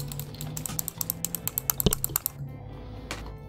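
A quick run of about a dozen crisp, evenly spaced clicks, close and distinct, as a mouse or keys are pressed to select a player in Roblox, ending in one heavier knock and then quiet.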